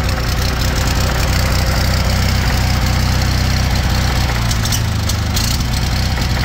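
Onan 6kW generator engine idling roughly and hunting, a loud steady low drone with uneven surging and knocking pulses throughout, no voices.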